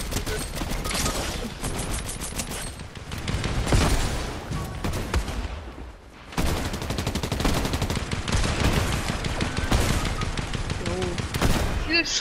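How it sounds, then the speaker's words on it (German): Rapid continuous gunfire in the video game Fortnite, dense overlapping bursts with a brief lull midway before resuming, with players talking over it. "Wie viel Schuss hat der Typ? Da muss ja gar nicht nachladen."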